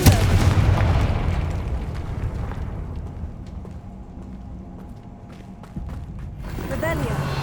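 A Confringo fire spell explosion in Hogwarts Legacy on PS5, starting with a loud close boom that rumbles and fades over several seconds into a quieter game soundscape, with another swell near the end.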